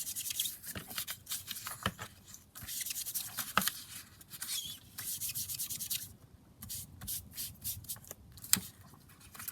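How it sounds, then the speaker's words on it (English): Paper pads being cut down by hand, with quiet, close snipping and rubbing strokes coming in irregular bursts with short pauses between them. "And then I'll just cut it down."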